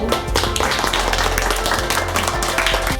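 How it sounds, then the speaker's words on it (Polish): An audience applauds a team at a project event held in a workshop centre for people with intellectual disabilities in Pruszcz Gdański, with steady, dense clapping sustained throughout at close range. "Brawa dla zespołu"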